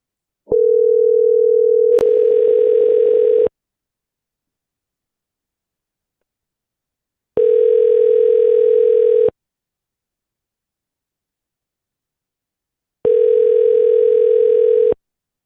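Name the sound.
outgoing telephone call ringing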